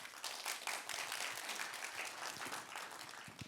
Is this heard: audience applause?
yes